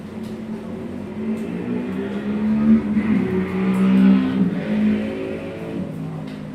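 Vintage racing motorcycles at the start of a Premier Vintage Cup race at Barber Motorsports Park, a pack of engines droning and revving together, swelling midway and then settling, loud and sustained with no talk.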